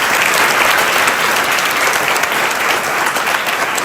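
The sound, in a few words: applause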